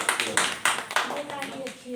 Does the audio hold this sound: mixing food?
no